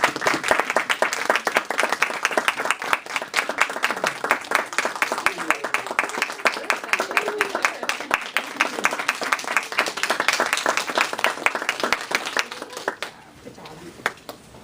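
An audience in a meeting room applauds the Table Topics contest winner, a lively, dense round of hand clapping that lasts about thirteen seconds before tapering off, with some voices mixed in.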